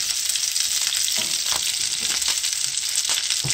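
Broccoli sizzles and fries in hot oil, a steady dense crackle with scattered louder pops and stirring bursts, close up and continuous with no talk.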